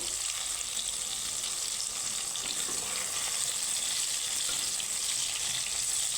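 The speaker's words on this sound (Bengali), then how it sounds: "তো এটাকে একটু আমি ভেজে নেব তো হাই ফ্লেমে কিন্তু ভাজতে হবে" Eggplant (brinjal) pieces fry in hot oil over a high flame, a steady, dense sizzle that holds evenly from start to finish with no voices.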